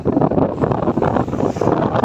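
Strong southwest monsoon wind roars and buffets steadily against the microphone on a sandy beach by the sea, a loud rough rush with no voices.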